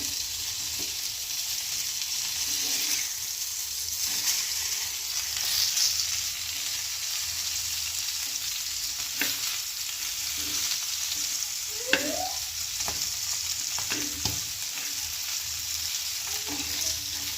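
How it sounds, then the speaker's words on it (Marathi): Fish and onion fry together in a hot pan, giving a steady close sizzle and crackle throughout, with occasional stirring scrapes and small pops. "एका साईडला आपले फिश भाजत आहेत आणि इकडे आपण कांदा भाजून घेऊया।"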